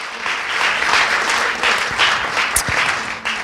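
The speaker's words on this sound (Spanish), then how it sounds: "Dale un fuerte aplauso al Señor" A church congregation claps loudly in praise during an evening worship service, a steady dense burst of applause that swells and ebbs across the room, with brief voices cutting through near the end.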